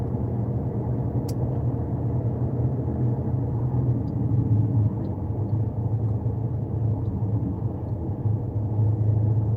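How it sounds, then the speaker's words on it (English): Steady engine rumble and road noise from heavy highway traffic in a truck driving simulator, a continuous mid-to-low drone with no pauses and no talking. "something to be expecting with all this heavy freaking traffic we have on this highway"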